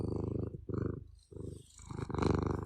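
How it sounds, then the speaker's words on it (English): A pet cat named Mr. Tigger purrs close up, a loud rhythmic rumbling that pulses with each breath in and out, with no talking. "I hear a kitty cat."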